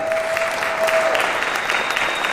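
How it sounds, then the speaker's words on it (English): Sustained audience applause for Amy at an event announcing Philadelphia's 250th anniversary celebration, a steady even roar of many hands clapping with no talk over it. "A round of applause for Amy"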